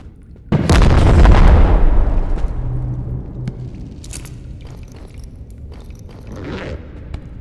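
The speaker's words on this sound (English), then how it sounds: "Alright, I'm gonna shoot it." One loud gunshot boom with a long decaying tail in the VR game Animal Company, followed by quieter rustles, taps and faint game noises.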